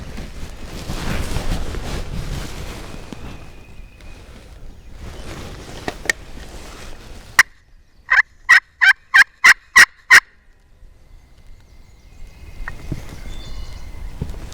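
A wild turkey gobbler sounds off from a ridge on public land, a rapid rattling gobble burst in the middle, with quiet rustling and wind before and after.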